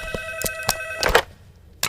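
A telephone rings from another room with tonal, steady ring bursts, followed by several short knocks and thumps and a brief rustle, with no speech.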